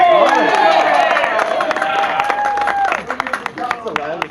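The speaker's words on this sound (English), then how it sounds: "That's the loudest cheer I've heard for an attorney in a while." A crowd at a Colonial Williamsburg street performance erupts in loud cheering, whoops and clapping for a costumed actor, then fades into scattered claps and murmurs with a voice speaking.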